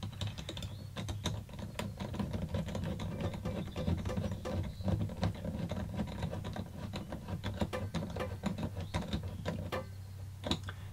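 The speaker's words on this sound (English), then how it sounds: "And put these hose clamps on here." Hose clamps being fitted and tightened on a hose beside a check valve in a Sprinter RV water tank vent setup, a quiet run of close clicks and ratcheting ticks in irregular rhythm.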